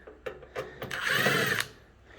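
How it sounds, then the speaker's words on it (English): Screws backed out of a Samsung over-the-range microwave with a power driver, heard as a few short close whirring bursts followed by one longer spin, alone with no talk. "all the screws that I'm taking out"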